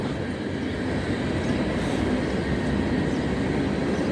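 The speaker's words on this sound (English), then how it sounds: "Sorry about the train, maybe it's noisy." A continuous loud rumble of a train rolling past nearby, a dense steady roar of wheels on track with no letup.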